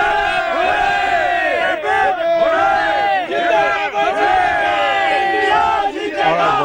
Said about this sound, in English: can we have a cheer for India, please?